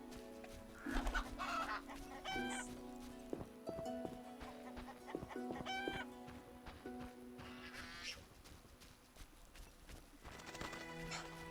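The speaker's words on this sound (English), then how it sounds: "Chicken." Chicken clucking in the video game The Witcher, short repeated clucks mixed with horse hoof clip-clop and game ambience, moderately close over a busy background.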